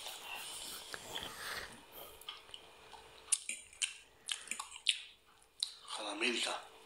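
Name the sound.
chewing pork loin meat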